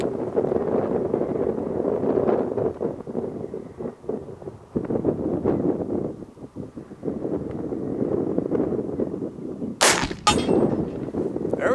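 A single loud, sharp gunshot from an 1865 Spencer Carbine firing a reloaded 56-50 cartridge cracks out near the end, over steady outdoor wind rumble.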